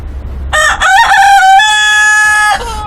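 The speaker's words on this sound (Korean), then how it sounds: "하지만 수탉들은 동이 틀 때부터 해가 질 때까지 수시로 크게 울기 시작했습니다." A rooster crows loudly and close by, one full harsh cock-a-doodle-doo with a rising start and a long sustained final note, standing alone against quiet background.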